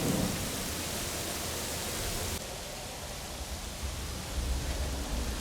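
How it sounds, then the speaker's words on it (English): Heavy rain pours down steadily around a highway overpass near a railway line, a dense, even hiss with a low rumbling undertone, continuous throughout and with no voices. "The rain started to pour down once again, so I was very thankful to be under the bridge"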